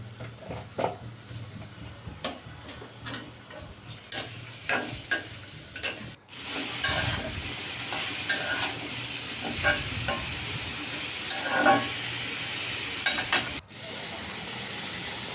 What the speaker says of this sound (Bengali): তো প্রথমে তেল দিয়ে এরপর পেঁয়াজ কুচি দিয়ে দিলাম,